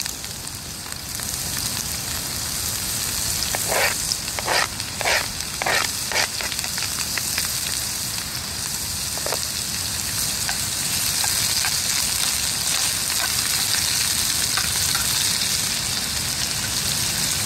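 Giant false morel mushrooms fry in melted fat in a pan, giving a steady, close sizzle dotted with sharp crackles and pops throughout, with no talking.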